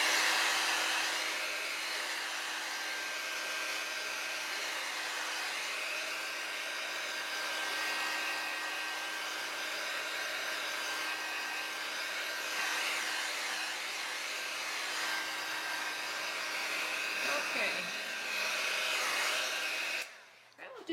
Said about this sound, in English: so I don't have to use the heat gun too long